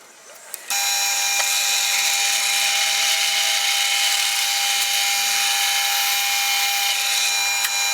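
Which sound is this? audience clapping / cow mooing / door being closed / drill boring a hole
drill boring a hole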